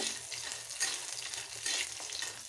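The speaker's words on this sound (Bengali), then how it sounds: "কড়াইয়ে আমি কয়েকটা বড়ি দিয়েছি এই বড়িগুলো ভালো করে লাল করে ভেজে নেব" Lentil dumplings (bori) frying in oil in a wok, a close, steady sizzle with brief surges as they are stirred, and no talk over it.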